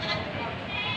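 A male goat gives a brief, close bleat on a livestock farm, a single wavering nasal call lasting about a second.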